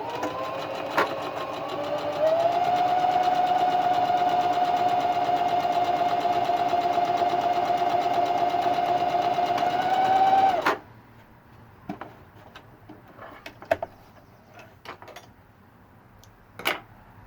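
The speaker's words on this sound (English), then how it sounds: "Make sure you backstitch a couple times to lock in the thread." A sewing machine stitches fabric for a face mask, starting with a few clicks, then running in a steady close whirring hum for about eight seconds before stopping abruptly, followed by scattered light clicks and handling taps.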